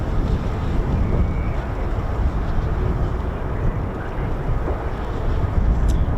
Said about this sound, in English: It's quite windy, isn't it?